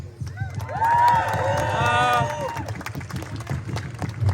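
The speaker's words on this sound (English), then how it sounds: "So have a big cheer for our next speaker, please." A crowd at a pro-Palestine rally over Barclays' apartheid links cheers and applauds to welcome the next speaker, a loud, sustained wash of clapping and whooping with high whistles or shouts rising above the noise.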